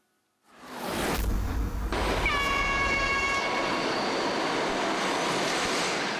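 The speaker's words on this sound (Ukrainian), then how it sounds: "електричка з Донецька на велику землю двічі на день і точно за графіком" An electric commuter train running from Donetsk roars in loudly, sounds a sustained horn, and rolls past with a steady rumble of wheels on rails.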